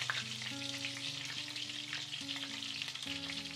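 Food frying in a pan at home sizzles with a steady, dense hiss throughout, accompanied by sustained melodic tones in the background and no talking.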